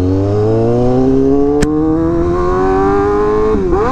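A Honda CBR Fireblade RR-R SP motorcycle with a check engine light on revs loudly nearby, its engine pitch climbing steadily with a sharp click partway through, then dropping abruptly near the end as the rev falls; no one speaks.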